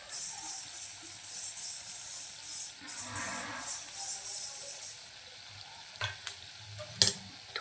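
Fenugreek seeds roast dry in a pan, giving a soft crackling, rustling sizzle while being stirred, with a few sharp clinks of a spoon against the pan toward the end, quiet and close with no talking.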